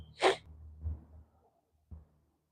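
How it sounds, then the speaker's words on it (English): A short, soft sneeze bursts out up close, followed by a few quiet breaths and a faint sniff in otherwise near silence. "I'm fighting back a sneeze"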